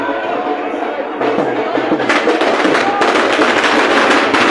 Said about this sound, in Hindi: और आतिशबाजी, यहाँ पर आतिशबाजी भी की गई है, देखिए। देख सकते हैं पटाखों की गूंज के भी